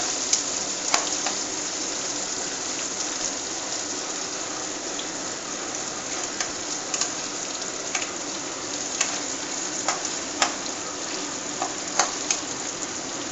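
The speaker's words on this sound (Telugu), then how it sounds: "చూడండి, ఇది ఈ విధంగా ఫ్రై చేస్తాం అన్నమాట" Korameenu fish pieces deep-frying in plenty of oil give a constant dense sizzle with scattered sharp pops and crackles. The sound stays close and steady, with no voices.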